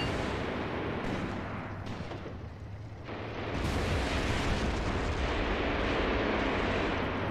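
Artillery fire in the WWII tactics game Graviteam Tactics on the Mius Front, a dense continuous roar of rumbling blasts that swells louder partway through and stays heavy and sustained.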